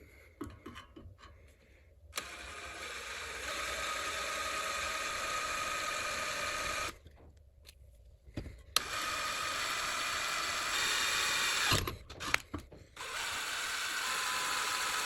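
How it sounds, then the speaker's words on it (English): A power drill whirs through metal in several long runs, drilling ash holes in a forge part, stopping and restarting between holes, with a steady grinding whine throughout. "I need to drill some holes here so ashes can escape"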